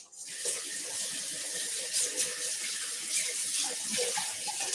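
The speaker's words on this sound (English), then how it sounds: "I will give my hand a wash" Tap water runs steadily into a kitchen sink as a cook rinses hands after handling spinach, a continuous close splashing hiss with small shifts in the flow.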